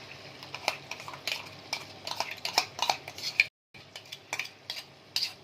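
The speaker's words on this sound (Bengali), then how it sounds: "দিয়ে ভালো করে তেল ছাড়া অবধি কষে নেব।" Stirring and frying a cashew, raisin and melon-seed paste masala in oil in a pan for paneer butter masala: steady scraping and clinking of a spoon against the pan with faint sizzling, a brief pause midway.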